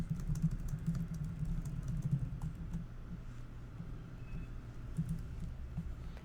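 Computer keyboard typing while a message title is entered in Office 365, soft rapid key clicks running steadily under a low background hum with no talking.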